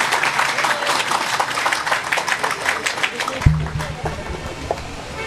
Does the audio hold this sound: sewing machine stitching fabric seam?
no